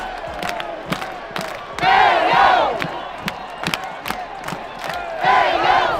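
A packed NBA arena crowd of thousands chants for Obi Toppin and claps in rhythm, with loud, echoing swells of voices rising and falling over repeated sharp claps.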